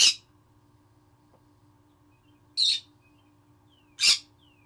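Three pet birds in a room give short sharp squawking chirps, three separate calls spaced a couple of seconds apart over a quiet low hum.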